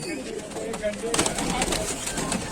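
Pet pigeons coo softly nearby while people talk over them throughout.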